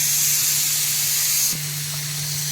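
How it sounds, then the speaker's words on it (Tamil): Groundnut oil goes into a hot pan for frying fish, giving a loud, continuous hiss that suddenly drops in level partway through, with a steady low hum underneath and no voices. "எண்ணெய் வந்து ஊற்றிட்டேன்"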